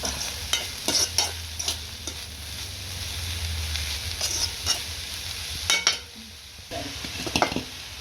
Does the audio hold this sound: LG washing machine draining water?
no